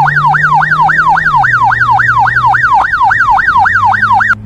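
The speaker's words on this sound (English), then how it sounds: "Police car!" A police car siren in a children's vehicle learning game wails loud and close in a fast, steady up-and-down sweep, with a low engine-like hum beneath and no talking.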